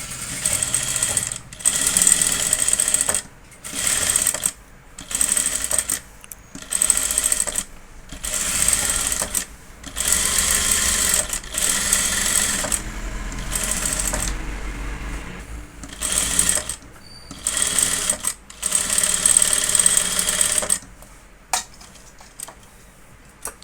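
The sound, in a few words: sewing machine stitching a blouse neck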